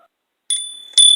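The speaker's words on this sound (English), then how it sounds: "I use the bell because it brings in good spirit, but it also purifies and cleanses the energy" Small bell rung in a spiritual cleansing ritual, two bright clear strikes about half a second apart, each ringing on with a steady high tone in an otherwise quiet room.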